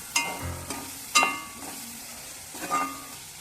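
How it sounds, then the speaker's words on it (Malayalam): Crushed ginger fries in a pan for a tuna pickle, with faint sizzling under a few sharp scrapes and clinks from stirring. "ചതച്ച ഇഞ്ചി ഇട്ട് കൊടുക്കാം. ഇത് രണ്ടും നല്ല ബ്രൗൺ നിറം ആവുന്നത് വരെ ഇളക്കി കൊടുക്കണം."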